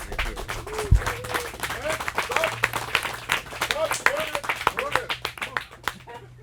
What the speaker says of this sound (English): Round of applause, please, for Diane